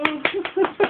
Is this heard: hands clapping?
yes